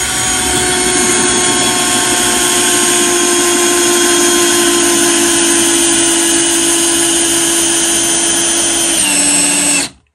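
Hychika 18V cordless drill driving a screw into wood with no pilot hole: a loud, steady motor whine that holds for about nine seconds, then dips in pitch briefly before cutting off.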